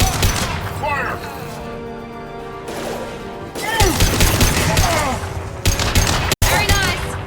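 Mass Effect 2 combat gunfire, with bursts of shots and booming impacts mixed with game music and voices shouting, growing denser and louder toward the end.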